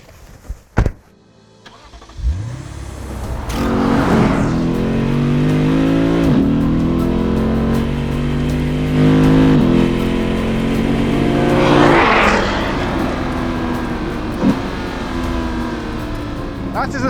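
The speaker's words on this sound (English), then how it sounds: "That is the sound of a naturally aspirated 5-litre V8." A 2021 Lexus RC F Track Edition's naturally aspirated 5-litre V8 revs up through several rising sweeps, loud and close, with a steady engine drone between pulls and people talking briefly over it.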